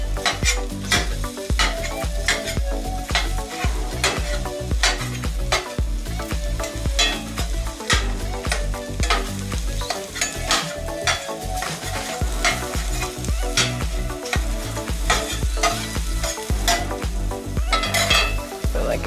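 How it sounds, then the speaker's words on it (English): Food fries noisily in a hot pan while a spatula repeatedly breaks it up, giving steady sizzle under frequent scraping and clinking taps close by, with no talk. "I'm turning them up a little now that my pan's hot. And I'll just kind of break them up with my spatula."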